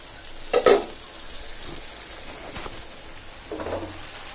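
Fish pieces with tomatoes fry in a pan for a Bengali bata fish bhuna, a steady soft sizzle broken by a few louder scrapes and clinks.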